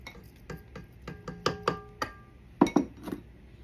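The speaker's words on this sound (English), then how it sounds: "we're going to add our 2 beaten eggs" Two beaten eggs tipped into creamed butter and sugar in a bowl, a scatter of sharp clinks and taps of utensil on glass, close and fairly quiet, about a dozen distinct knocks.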